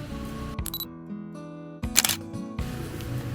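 A single-lens reflex camera shutter fires while photographing autumn ginkgo leaves, giving a few crisp mechanical clicks close to the microphone over a faint, steady tonal background.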